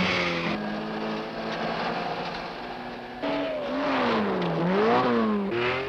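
A 1968 rally car, driven by Timo with alternator trouble, roars past on a Finnish 1000 Lakes stage, its engine note rising and falling through gear changes, loud and close, with no talk.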